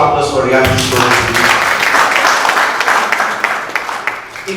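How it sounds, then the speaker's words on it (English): Audience applause breaks out at a live talk show forum, dense and sustained after a brief voice at the start, then tapering slightly toward the end. "a round of applause for reality show."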